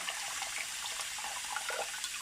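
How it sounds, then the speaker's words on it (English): Warm water pouring into a ceramic Crock-pot slow cooker, a steady close trickle and splash running throughout without pause. "Have to put some little bit warm water"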